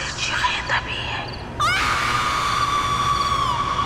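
A woman's loud, sustained scream in a Pakistani TV drama scene, bursting in after a quieter whispery passage and holding steadily for a couple of seconds.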